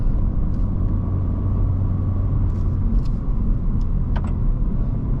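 Inside a Honda Civic hatchback (11th Gen) engine braking downhill in second gear while towing, a steady low engine and road rumble runs throughout with light ticks and rattles on top, no talking.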